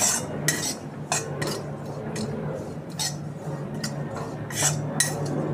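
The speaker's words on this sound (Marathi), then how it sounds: "त्याच कढईमध्ये त्याच तेलामध्ये मी सर्व गोष्टी भाजून घेणार आहे।" Ingredients for a curry leaf chutney roasting in a little oil in a kadhai, a steady frying hiss with repeated metallic clinks and scrapes of a spoon against the pan.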